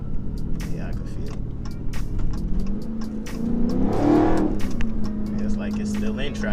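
A Dodge 392 Scat Pack with a Roar pedal pulls hard, its engine rising and revving through a gear change with a surge midway, heard from inside while someone speaks over it.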